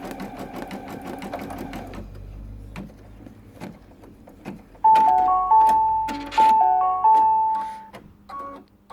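A Brother Innov-is V3 embroidery machine stitches a design, its rapid mechanical chatter running steadily, broken by a few short electronic beeps and pauses near the end.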